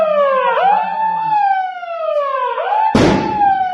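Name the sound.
mock drill emergency siren in Hyderabad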